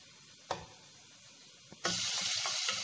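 Meat frying in margarine or butter in a pan for a sweet meat tagine, a steady loud sizzle bursting in near the close after a couple of short knocks and faint background noise.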